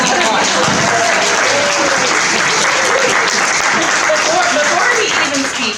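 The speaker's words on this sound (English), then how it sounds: "a round of applause." Loud, continuous applause fills a hall at a health forum as a speaker is introduced, with crowd murmur and voices mixed under the clapping.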